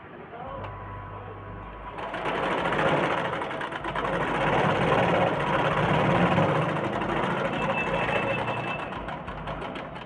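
A sewing machine stitches a blouse, its motor starting about two seconds in and then running in a steady, continuous whir close by for the rest of the stretch.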